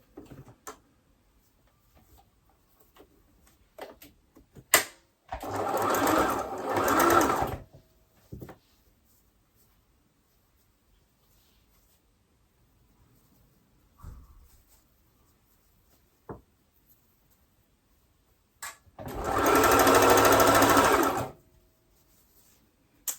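A sewing machine stitches scrunchie fabric, red layered on black, in two separate bursts of rapid whirring of a few seconds each, close and clear, with quiet handling noises and faint clicks between them.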